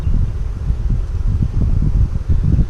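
Gusty wind rumbles and buffets the microphone in low, uneven bursts, steady throughout with no voices.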